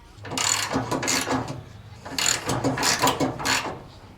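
A ratchet tightens the front nut on a Troy-Bilt Pony riding mower, in loud close bursts of rapid clicking strokes separated by brief pauses and repeated about six times.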